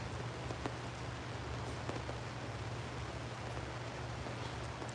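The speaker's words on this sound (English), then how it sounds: "You hear that rain just pitter patter?" Steady rain pattering on a goat farm, a dense even hiss with scattered sharper drop ticks over a low constant hum, continuing throughout with no talk.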